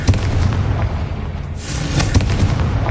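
Repeated Confringo fire-spell blasts in a Hogwarts video game: a rapid string of loud, crackling booms and bursts, close and continuous for a few seconds, with a sharper burst about midway.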